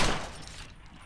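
An M200 sniper rifle fires on a firing range in Ghost Recon Phantoms, a single loud shot already at full force and fading away quickly.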